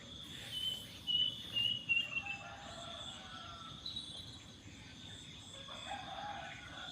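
A distant rooster crows faintly in the morning, accompanied by scattered bird chirps and a soft insect hum in a quiet outdoor setting.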